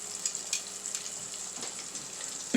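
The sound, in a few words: chicken nuggets frying in hot oil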